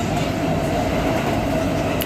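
A New York City subway train riding along, with a steady close rumble and rattle of the cars filling the whole stretch and no voices over it.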